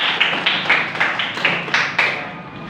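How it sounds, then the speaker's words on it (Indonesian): Classroom applause for a pupil, Mas Taufik, with a run of scattered claps coming in irregular bursts, fairly close and moderately loud, fading toward the end. "beri tepuk tangan untuk Mas Taufik"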